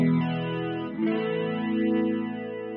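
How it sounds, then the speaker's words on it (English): Sustained tone processed by an Arturia Chorus Dimension-D plugin set fully wet, giving a swirling, sweeping flanger-like phasing texture that moves up and down over a steady, moderately loud sound. "It's like a weird flangey phasey sound on all wet"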